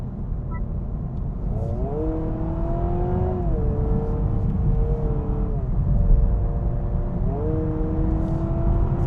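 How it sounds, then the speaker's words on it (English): A 2026 Honda Prelude accelerates along curvy roads, a steady close engine drone with rising and falling whine tones over a heavy, continuous road and wind rumble. "we're gonna start some spirited driving here"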